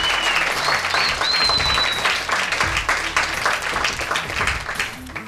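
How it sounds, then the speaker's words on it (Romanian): Audience applause for a contestant at a live competition event, a dense, steady wash of many hands clapping throughout, loud and close, with a few faint whistles or shouts mixed in. "Aplauze pentru Tudor!"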